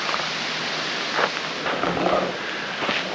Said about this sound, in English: And here comes the rain into the canyon.